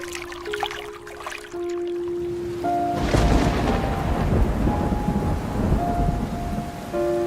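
Heavy rain pours down in a village at night while a loud thunderclap breaks in partway through, then a dense, steady downpour continues under soft, sustained musical tones.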